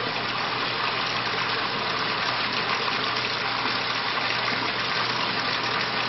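Hot water rushing steadily through a Navigator thermostatic mixing valve, a loud continuous broadband gush with a faint low hum beneath, unbroken and close for the whole stretch.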